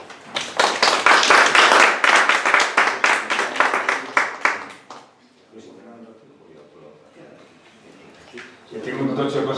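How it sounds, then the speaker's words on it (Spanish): Audience at an education and violence conference breaks into loud, dense clapping for about five seconds, then it fades away and quiet talking follows. "Un aplauso"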